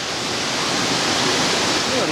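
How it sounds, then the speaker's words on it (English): Water rushes steadily through an old mine gate at Woodbury Creek, a close, even wash of broadband noise that stays constant from start to finish. "a little bit of water runs through there"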